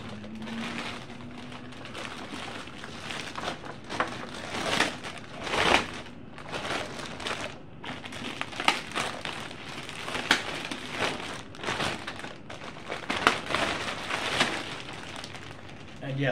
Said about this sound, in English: I'm gonna keep that plastic bag because I like to keep the dust off